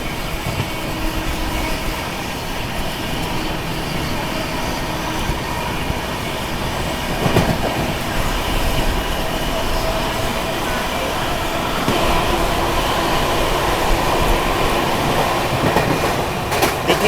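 An Indian Railways express train in sleeper class passing Hathras Junction, a continuous loud rumble of carriage wheels with rhythmic clickety-clack over rail joints and occasional squeals, heard from inside the coach.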